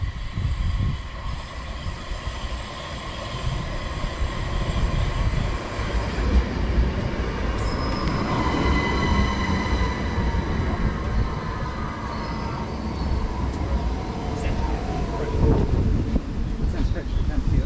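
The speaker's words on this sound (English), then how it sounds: "which is going to be the 1730 Southern service to Tonbridge from Redhill. Should be 377-306." A Southern Class 377 electric train runs the Redhill to Tonbridge service in Kent, with a loud, steady rumble and rush heard from on board. Faint squeals rise briefly partway through, and a voice is heard faintly at times.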